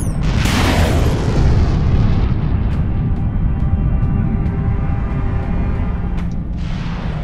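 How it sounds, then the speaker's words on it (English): Torpedoes launch with a loud boom in a naval video game, followed by a sustained rumbling roar and a scatter of sharp crackling bursts, close and heavy throughout. "Launching torpedoes."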